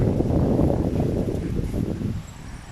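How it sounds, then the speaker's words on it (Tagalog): A sudden strong gust of wind roars and rustles through a stand of bamboo trees, a close, steady, loud whoosh lasting throughout with no voices. "Bigla-bigla yung hangin."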